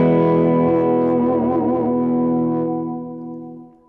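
Sustained guitar chord through the digital reverb of a Fuchs ODS-II amp, set to mimic a spring reverb pan, shimmering with a wobbling tail that slowly fades away.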